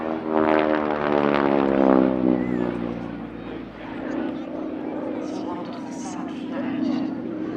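A North American T-6 Harvard propeller aircraft flies past at an air festival, its engine drone rising loud early then easing and lingering more distantly, with people talking over it.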